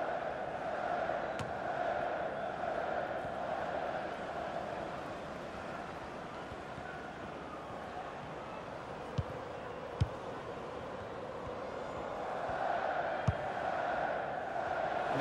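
A stadium crowd at a football match roars in a steady, distant wash of cheering and murmur, rising near the end, with a few sharp claps or shouts.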